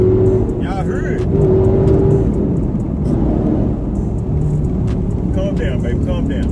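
A Dodge Charger widebody engine rumbles and revs steadily from inside the closed car, a low continuous growl with brief higher chirps and people talking over it.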